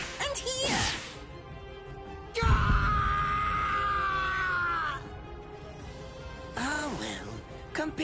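A man screams in pain in the Bleach Rebirth of Souls video game, a loud strained cry breaking into a long drawn-out wail with a struck impact, followed by another shorter pained yell.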